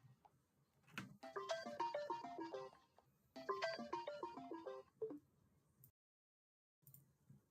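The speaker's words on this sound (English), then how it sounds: "Oh, someone's ringing us" Mobile phone ringing with an incoming call, two bursts of a bright repeating melodic ringtone, each lasting about two seconds, then a brief pause before it cuts off.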